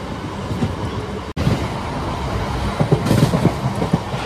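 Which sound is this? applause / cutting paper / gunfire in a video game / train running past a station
train running past a station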